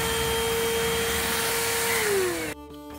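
A Tusa wireless vacuum cleaner runs with a loud, steady motor whine, then its pitch drops and it winds down abruptly near the end.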